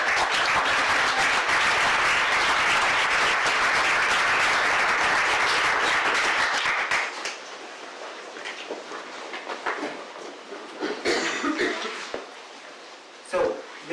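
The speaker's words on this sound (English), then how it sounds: "Please give a big round of applause for Sophia." A big round of applause from a live-event audience for Sophia, a Paralympic athlete, fills the first seven seconds loudly, then stops abruptly and gives way to a person talking over quieter room ambience.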